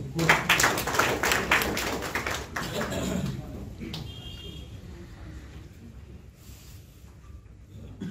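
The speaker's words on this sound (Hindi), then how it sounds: "तालियां हो जाए इनके लिए।" An audience at a book launch ceremony claps for a special guest. A burst of brisk, closely packed applause lasts about three seconds, then thins into a low murmur of room noise with some talk.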